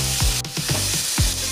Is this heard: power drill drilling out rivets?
no